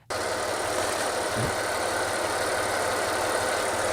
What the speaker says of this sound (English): To do this, we'll start the engine.